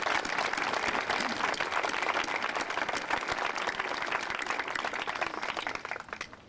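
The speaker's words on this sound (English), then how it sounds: "A round of applause, please." An outdoor audience at the 2004 grand opening ceremony of the Manzanar National Historic Site Interpretive Center applauds in a dense, sustained wash of clapping that tapers off in the final second.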